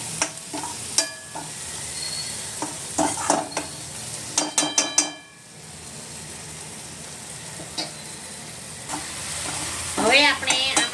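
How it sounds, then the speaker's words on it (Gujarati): Paste for aloo paratha filling sautéing in a pan over medium flame, a constant soft sizzle broken by repeated spatula scrapes and clatters, close up. "મીડિયમ આંચે આને સાતળવાનો રહેશે."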